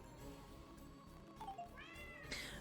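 A cartoon cat meows in the video game Hidden Cats in Spooky Town, with a couple of short mews rising into a longer bright meow near the end over a quiet, steady game background.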